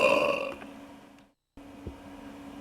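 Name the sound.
burp imitated by the reader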